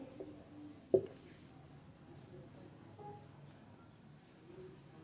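Marker scratching across a whiteboard during a Class 9 physics lecture on motion, faint and steady with one sharp tap near the start, over a quiet room hum.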